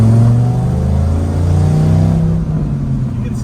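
A V10 Viper engine swapped into a Mazda RX-7 idles and rumbles with its exhaust cutout closed, a loud, close, deep, steady drone with slight rises in pitch and no talking.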